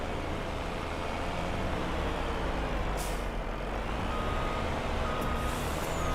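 A truck in Farming Simulator 25 reversing, with a steady engine and road drone throughout and faint, high intermittent warning beeps near the middle and end, no talking.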